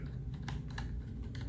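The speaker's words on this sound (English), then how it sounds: "Just like basic sounds you hear from keys being pressed, but it's not as loud." Fast, soft key presses on a HyperX Alloy Core RGB membrane keyboard, a steady quiet clatter of muted taps heard close and alone.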